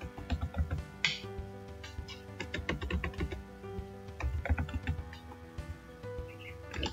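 A computer keyboard clatters as a folder name is typed into Google Earth Pro, a quick irregular run of close key presses lasting several seconds with no talk.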